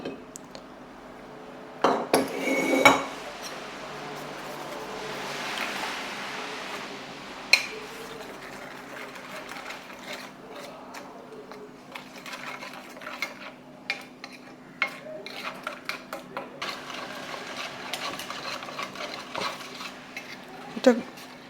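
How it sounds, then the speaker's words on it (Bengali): A spoon stirs a mixture with water in a bowl, producing soft swirling scrapes broken by sharp metallic clinks against the dish, several taps close together near the start and isolated clinks later, quiet and close, with no talking. "আমি এবার এইটা সব জল দিয়ে গুলে নিচ্ছি।"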